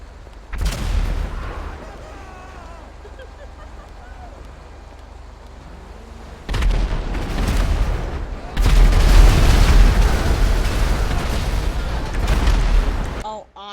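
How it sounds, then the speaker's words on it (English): Video-game explosions and gunfire on a multiplayer server come as heavy rumbling booms and dense bursts that swell louder partway through, with voices talking underneath. "There's lots of explosion out here."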